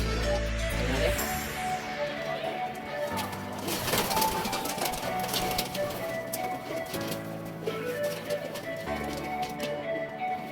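Racing pigeons coo during a training session, soft repeated throaty calls over a busy outdoor background with clatter and someone talking intermittently.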